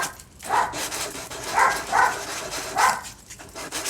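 A pet dog barks about four times in sharp separate bursts, close by and fairly loud, with short gaps between the barks and no talking.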